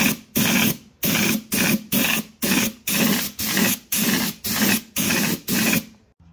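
Repeated short bursts of aerosol spray paint onto a masked motorhome wheel, about a dozen steady hisses separated by brief pauses, loud and close.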